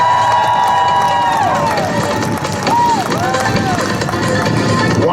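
Airshow crowd cheering and shouting for US Army Golden Knights parachute jumpers at the Thunder of Niagara show, a loud sustained roar of many voices with whistles, close and continuous.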